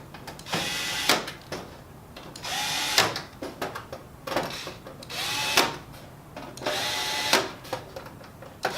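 A power drill drives screws back into a Kyocera TASKalfa 3501i/5501i copier after a low-power board replacement, with repeated short whirring bursts and clicks separated by brief pauses, close and clear, no talk.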